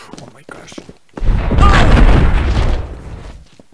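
A grenade explosion in the video game Enter The Matrix sounds as a single loud, low rumbling boom that swells and fades over a couple of seconds, with quieter game noise before and after.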